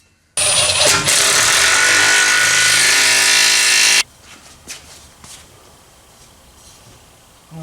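Power tool, probably an impact wrench, driving down Headman header bolts on a Ford F100 Ranger exhaust with a 302 small block, a loud continuous whir lasting several seconds, then quiet clinks of metal nearby.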